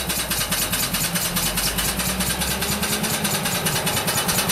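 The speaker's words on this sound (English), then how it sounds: "you can hear the exhaust from the engine" Steady chuffing exhaust from a small steam engine running off a boiler, a continuous rhythmic pulsing close by with a low mechanical drone underneath and no talk.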